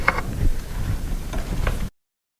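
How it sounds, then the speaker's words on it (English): A tool turns set screws on a garage door spring drum during a spring replacement, giving a short burst of close metallic clicking and grinding that stops abruptly after about two seconds. "now we're going to tighten up our set screws right here"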